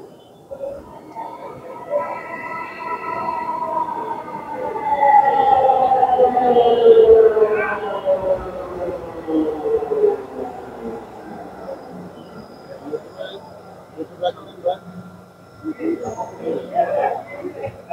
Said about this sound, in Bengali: মেট্রো চলে আসছে।